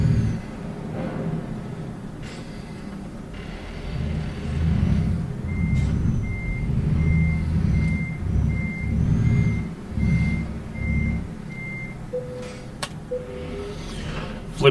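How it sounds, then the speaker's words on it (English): In the Euro Truck Simulator 2 video game, a truck reverses to couple a trailer: a steady series of evenly spaced reversing beeps over a low, rumbling diesel engine, with a brief hiss near the end. "So let's get her turned around here and get the trailer coupled on."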